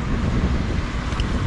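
Strong wind buffeting a microphone outdoors on a small slope in Winterthur, Switzerland, a steady loud low rumble filling the whole moment with no other sounds standing out.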